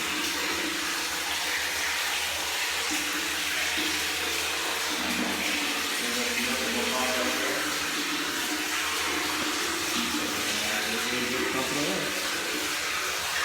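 Natural spring water gushing steadily from a pipe after the pump has been primed, a continuous near splashing rush with faint voices underneath.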